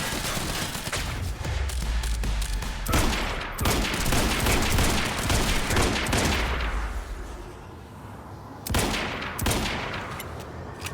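Heavy, dense bursts of automatic fire from a big gun in the game Quantum Break roar loud and close in sustained volleys, with short pauses and a fading tail before a final burst.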